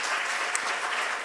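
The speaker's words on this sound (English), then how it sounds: "big congratulations and applause for her" Brief burst of audience applause at an art museum education presentation, steady and dense clapping lasting about a second with no voices over it.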